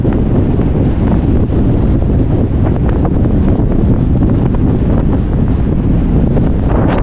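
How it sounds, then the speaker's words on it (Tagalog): Strong wind roars steadily into the microphone, a constant low rumble with gusty buffeting throughout, loud and close, with no talking. "Napakasarap ng hangin."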